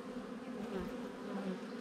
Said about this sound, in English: A nice amount of bees.